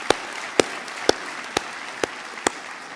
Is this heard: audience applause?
yes